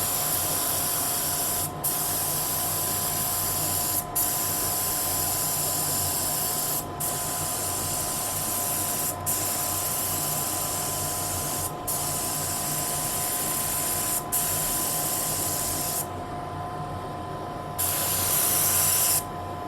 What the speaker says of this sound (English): take the spraying gun, the spray gun